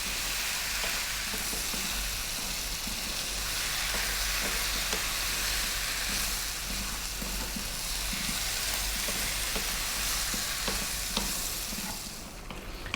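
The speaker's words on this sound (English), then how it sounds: "stay on this above medium heat, and this time go for about 6 minutes so we can cook down the tomatoes" Tomatoes for a vegetable curry sizzle and cook down in a pan over medium-high heat, a steady dense frying hiss with occasional stirring scrapes, close and continuous throughout with no talking.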